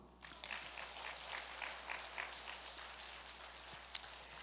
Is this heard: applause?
yes